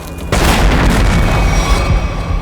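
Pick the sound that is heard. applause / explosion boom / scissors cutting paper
explosion boom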